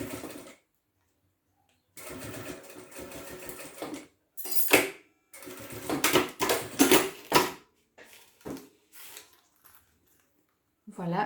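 A sewing machine stitches a 2 cm ribbon onto a piece of fabric in several close, rattling bursts separated by short pauses, with no talking over it.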